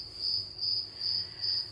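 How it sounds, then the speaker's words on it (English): Steady insect trill of crickets chirping in a close, continuous high buzz that pulses in four even swells, with no voices over it. "actually crickets"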